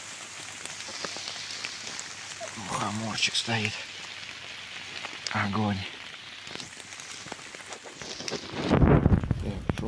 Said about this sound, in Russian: дождичек